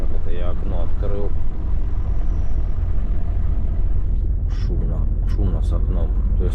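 Inside the cab of a Volvo FH 540 truck with the window open, a loud, constant roar of engine and wind fills the space while someone talks over it intermittently.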